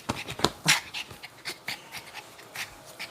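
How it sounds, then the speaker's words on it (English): A dog pants in quick, breathy bursts close by, with a few short whimpering yips mixed in and no talking. "Oh, you want to bark?"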